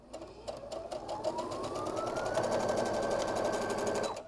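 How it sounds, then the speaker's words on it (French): A domestic sewing machine stitches a puff quilt block, its needle tapping in a fast, even rhythm as the motor whirs up to speed and holds, close and alone. "je plie mon dessus et je couds jusqu'au bout"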